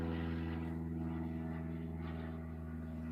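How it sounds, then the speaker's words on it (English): An airplane flies over a parked motorhome, heard as a faint, steady low drone that holds evenly throughout with no voices. "There's a plane."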